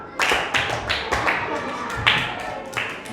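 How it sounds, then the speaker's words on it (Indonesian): Students in a classroom give a round of applause for the first presenting group, with a series of sharp, close claps spaced about half a second apart and scattered voices underneath. "Tepuk tangan untuk kelompok 1, silakan dulu."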